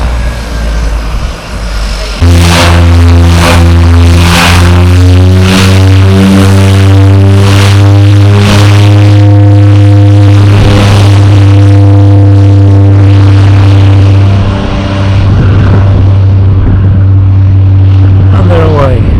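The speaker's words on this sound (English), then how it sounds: "Just watch, just see what a short takeoff he can make." Light propeller aircraft on a beach on the Isle of Barra, engine droning loudly and steadily up close through a short takeoff run, with voices talking over it.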